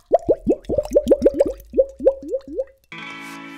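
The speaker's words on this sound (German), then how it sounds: "Diese Wasserkrug ist so formiert mit dem Griff hier, dass wenn man Wasser einfüllt und ins Glas kippt, es geht glug, glug, glug, wie ein Fisch." Water is poured from an English-style water jug into a glass, producing a quick series of about a dozen loud, close glugging plops that slow toward the end, followed by a brief tonal clink.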